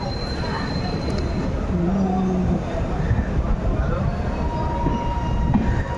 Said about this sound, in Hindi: किशनगंज अजमेर की गरीब नवाज एक्सप्रेस की रेक।